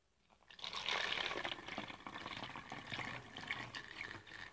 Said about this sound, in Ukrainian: І тепер потихоньку починаємо додавати водичку.